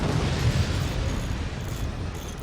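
Rocket barrage explosions in the RTS video game Forts, a dense rumbling burst of booms that starts loud and slowly fades over a couple of seconds.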